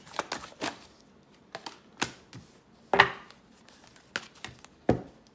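Tarot cards being shuffled by hand in a quiet room, giving short crisp riffles and taps in irregular bursts with pauses between them, close by and fairly soft, with no voice.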